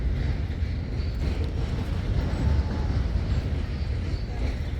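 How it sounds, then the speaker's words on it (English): Trains rumble past near the Coney Island boardwalk in Brooklyn, a continuous low, heavy drone of rail traffic heard at moderate distance with outdoor ambience. "The trains, the old Brooklyn sound."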